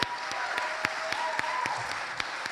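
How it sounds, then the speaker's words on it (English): Symposium attendees applaud the university president, a moderate round of clapping with several distinct sharp claps standing out near the front of the room. "Let's give President McGuire a round of applause"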